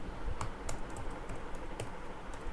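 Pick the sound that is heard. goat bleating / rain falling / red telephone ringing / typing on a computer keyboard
typing on a computer keyboard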